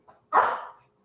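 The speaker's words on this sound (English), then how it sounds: "I have a puppy, so you may hear him in the background." A puppy gives a short, soft yip and then one fuller bark that tails off, heard from the background of a meeting with no other sound.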